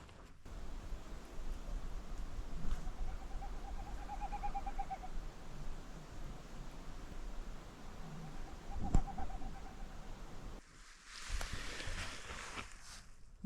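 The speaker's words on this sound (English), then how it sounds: "That is the sound of a snipe." A snipe calls at night in spring beside the Clearwater River, its faint, wavering winnowing rising and falling twice over steady outdoor background noise, with a brief rustle near the end.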